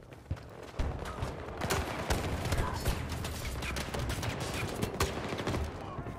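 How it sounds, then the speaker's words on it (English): Gunfire in a video game rattles on as a dense stream of rapid, sharp reports and blasts that stay loud and continuous, with no talking over them. "Grenade launcher time, maybe?"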